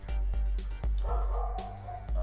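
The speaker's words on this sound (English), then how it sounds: "My dog is barking." A dog barks nearby in a quick series of sharp, loud woofs, roughly six in two seconds, over a steady low hum.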